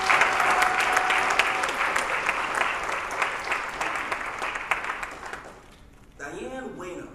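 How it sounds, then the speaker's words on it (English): Audience applause fills a forum held in a Baptist church, steady and fairly loud clapping from many hands that gradually thins out before a voice begins. "Please give the man a round of applause."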